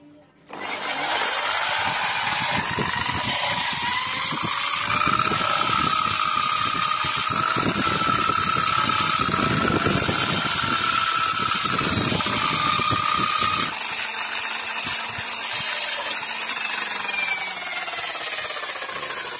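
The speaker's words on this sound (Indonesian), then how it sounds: "di gerinda ininya ujungnya ya, supaya bunder" A hand grinder works the end of a used PVC pipe to round it off, giving a sustained loud whirring and abrasive scraping that shifts in pitch partway through, close by.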